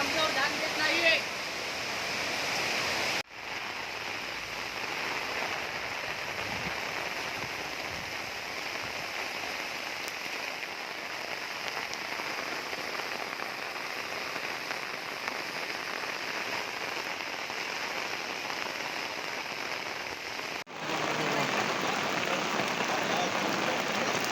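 Heavy rain pouring during a cloudburst in a village, a dense continuous roar of water on surfaces with brief breaks, voices occasionally heard beneath.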